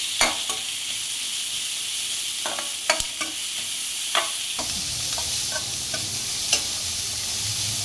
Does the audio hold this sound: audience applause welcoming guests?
no